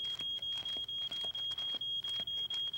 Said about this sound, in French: Mon pain a brûlé et la fumée a déclenché l'alarme.